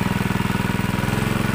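A repaired irrigation water pump engine runs steadily beside a rice field, giving a loud, close, even chugging with a fast regular pulse and no voices over it.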